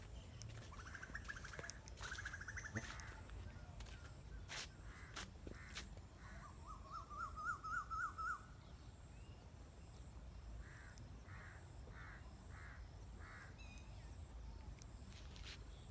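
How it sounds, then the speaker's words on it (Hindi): In a village, crows caw and an Asian koel calls in short repeated phrases. The calls are faint and somewhat distant, spread across a quiet outdoor background. "कोयल बोल रही है, कौवे बोल रहे हैं,"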